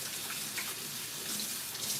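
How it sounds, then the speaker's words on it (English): Water runs steadily from a kitchen tap as hands are rinsed of sticky sushi rice, a constant close splashing hiss with no speech. "Rinse off any rice that may have stick on."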